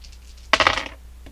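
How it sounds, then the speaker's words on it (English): Dice tumble onto a surface in one short clattering burst of rattles and clicks lasting under half a second, followed by a faint final tap, with no voices. "let's pull some dice here, roll some dice rather"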